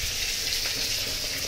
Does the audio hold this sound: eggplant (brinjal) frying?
yes